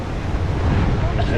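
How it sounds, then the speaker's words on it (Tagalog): Strong cold wind buffeting the microphone on Boracay's White Beach at night, a continuous loud roaring rush with surf mixed in. "malakas ang timoy ng hangin, malamig."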